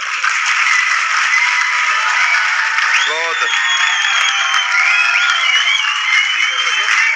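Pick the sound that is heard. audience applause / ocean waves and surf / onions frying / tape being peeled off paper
audience applause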